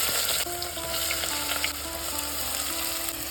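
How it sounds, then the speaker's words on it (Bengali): Onion fries in a pan for mutton kosha, spices like cardamom and cloves already added, giving a loud, continuous close-up sizzle with faint tonal hum underneath and no talking. "পেঁয়াজটা ভালো করে ভেজে নেব"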